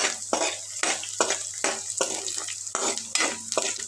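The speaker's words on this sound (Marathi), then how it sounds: "आता कांदा चांगला सोनेरी तळून झालेला आहे" Onion frying to a golden brown in oil for a spicy chavli curry, stirred with a rhythmic series of scraping strokes over a steady sizzle, close and fairly loud.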